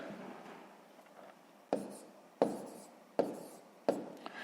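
Pen or marker writing numbers by hand for long division on a board or paper, a soft scratchy rub followed by four sharp taps about a second apart, each decaying quickly.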